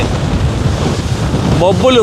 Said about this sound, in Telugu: ఇక్కడ వస్తున్న గాలి వేగానికి అసలు నా కళ్ళల్లో నుండి బేవచ్చంగా నీళ్ళు వచ్చేస్తున్నాయి